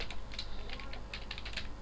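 Quick bursts of keystrokes on a computer keyboard, close and fairly quiet, tapping in an uneven rhythm during captcha entry work.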